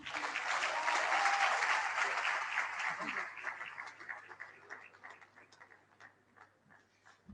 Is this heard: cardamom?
no